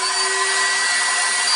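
A NASUM electric thermal weed burner running on high setting, giving a steady, loud blowing whoosh like a hairdryer, with a faint constant tone underneath and no pauses, heard up close with no talk.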